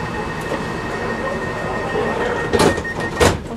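Steady rumble of a London Midland passenger train rolling on rails, with a couple of louder clanks and rattles toward the end.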